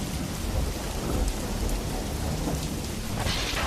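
Heavy rain falls in a steady, dense roar during a thunderstorm, with low rumbling thunder underneath, continuous and loud throughout, with no voices.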